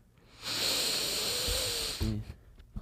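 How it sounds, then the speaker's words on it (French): A long, steady hissing breath held for about a second and a half, close and loud, then a quick snort-like exhale as it ends, with faint murmurs after. "il faut que je fasse une respiration spéciale"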